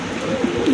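Cooing from pigeons kept for sale, including a pair of large black pigeons, comes as a low, soft, steady murmur through a short stretch, rising slightly at the end, with no talk.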